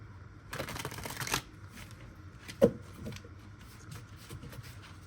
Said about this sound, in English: I did do a pre-shuffle ahead of time, but I'll do another one now.